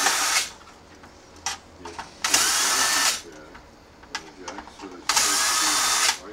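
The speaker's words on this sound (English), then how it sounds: "You remove the 4 screws." Power screwdriver backing screws out of an Akai MPC 2000XL casing, three loud whirring bursts of about a second each separated by quieter handling clicks and rattles.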